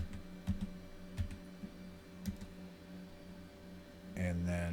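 Keys clatter on a computer keyboard in a few scattered bursts beneath steady hum, while a person talks over the typing.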